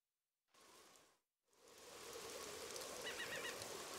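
Steady rain falling on a beach in Mario & Rabbids Sparks of Hope: soft, broad hiss that starts, drops out briefly, then returns and holds, faint and even, with a few light chirps near the end.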